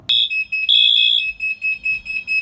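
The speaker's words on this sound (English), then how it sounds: "So the fire alarm just went off." A fire alarm going off indoors, loud piercing electronic beeps in a quick repeating pattern, one held longer near the start, with no voices.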